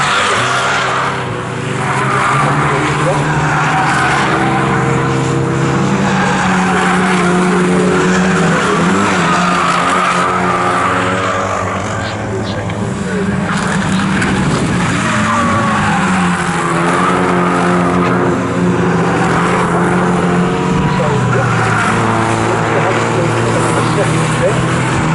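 Carbon8 Coupe Cup race cars at Snetterton circuit roar past close together, a loud continuous engine drone with rising and falling pitch and tyre noise, running under steady commentary throughout.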